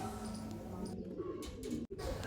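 A pigeon coos softly and low among young birds, a faint, murmuring call with brief pauses and a short dropout near the end.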